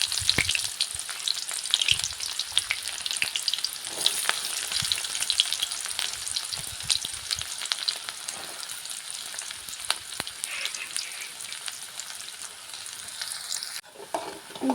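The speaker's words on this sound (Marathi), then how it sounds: "कांदा चांगला परतून घेतला आहे" Chopped onions sizzle and fry steadily in a pan for a village-style vermicelli dish, a continuous crackling hiss with occasional louder pops and stirring scrapes, close and alone without talk.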